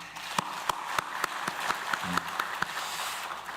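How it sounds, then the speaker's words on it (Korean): A church congregation claps during a Sunday worship service, soft crowd applause running steadily with a few sharper individual claps at a regular beat throughout. "하나님께 영광의 박수 올려드립니다."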